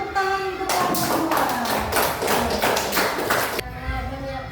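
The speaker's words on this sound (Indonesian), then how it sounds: "Oke, kasih tepuk tangan untuk kelompok" A classroom group gets applause, with dense clapping and tapping from many hands lasting about three seconds between stretches of background voices and room noise.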